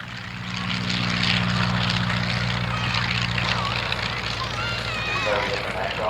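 Vintage propeller aircraft fly past at an evening air display at Shuttleworth, a steady loud engine drone with low harmonic hum, while a commentator talks over it throughout.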